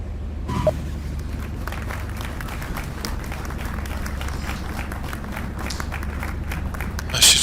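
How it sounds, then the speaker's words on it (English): Passengers in the cabin of a V35B Bonanza air taxi in a flight simulator break into sustained applause and clapping after landing, a dense, steady wash of hands that runs for several seconds. "I have not added to that applause. It's part of the FS Airlines app."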